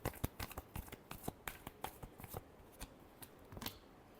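Tarot cards are shuffled by hand in a quiet room, a rapid series of close, crisp riffling snaps and flutters over a few seconds, with no voice.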